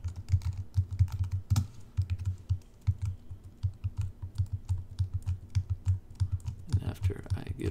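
Quick, steady keystrokes on a computer keyboard rattle on for several seconds in an irregular rhythm, close and clear, ending in a short burst of slightly louder, denser tapping.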